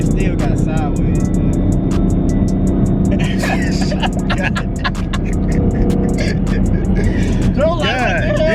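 A 1000+ hp twin-turbo Mustang GT engine drones loud and close from inside the car, a dense low growl with rising whine near the end, while people talk over it.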